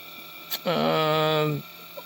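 A small electric motor on a model of an 1831 locomotive whines up and holds a steady buzzing tone for about a second before cutting off, with a slight shudder, close and moderately loud over a faint background hum.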